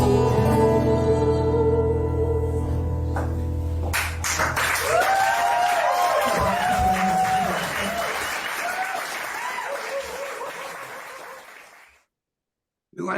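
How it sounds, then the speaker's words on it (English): A studio audience breaks into sustained applause as a song's final notes fade, the clapping steady and fairly close before tapering off, with a few voices mixed in. "We want to get the applause in there."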